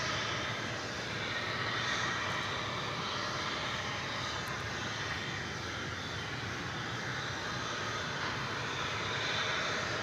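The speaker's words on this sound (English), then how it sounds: "we've got American Flight 883. This is coming in from Querétaro in Mexico. It's a 737-800." An American Airlines Boeing 737-800 arriving at Dallas/Fort Worth Airport from Querétaro, Mexico: a steady, loud engine roar that fills the clip without letup, broad and continuous with no voices.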